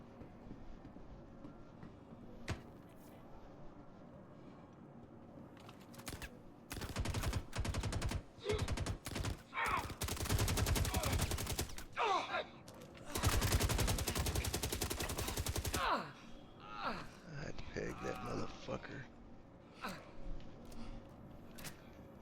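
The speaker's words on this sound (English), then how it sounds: "And they got some big machine guns up there." Machine gun fire during a site-defence firefight in the video game Star Citizen: scattered single shots at first, then long rattling bursts of automatic fire that come and go, with faint game sounds between them.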